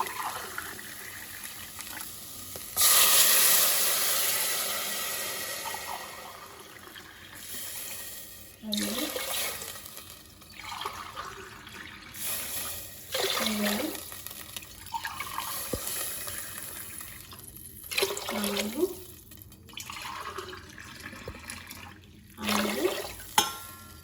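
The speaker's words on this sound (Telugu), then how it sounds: "ఐదు గ్లాసున్నర వాటర్ పోసానండి." Water pours in repeated bursts from a glass into a pot of rice, splashing and trickling, with short pauses between pours and a faint voice in the background.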